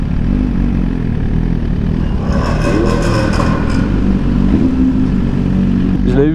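Cars and motorcycles lapping a race circuit, a constant roar of engines with a vehicle revving and passing midway, loud and continuous throughout.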